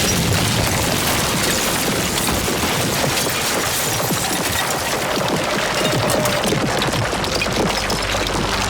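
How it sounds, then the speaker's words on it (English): A loud explosion blowing apart the front of a house in a game, a dense sustained roar of blast and crumbling debris that fills the whole stretch without letting up, with no speech. "Everybody except for the dude leading the charge gets destroyed in this explosion"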